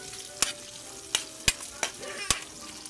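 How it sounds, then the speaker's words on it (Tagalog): Garlic, onion and chili sautéing in a pan, a soft steady sizzle broken by about five sharp clattering stirs of a utensil against the pan, close and quiet. "Masak na ako ng bawang sibuyas at saka sili"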